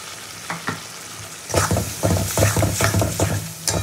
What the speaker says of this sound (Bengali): আবারও মশলাটাকে খুব ভালো করে কষিয়ে নেবো।